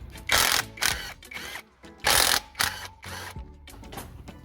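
A ratchet loosens the clutch bolts on a 2009/10 Toyota Aygo in close, loud bursts of rapid clicking, with short pauses between the pulls.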